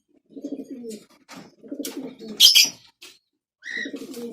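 A Sialkoti pigeon pair coos close by in a breeding loft, giving several soft rolling bursts separated by short pauses, with one sharp rustling flutter partway through.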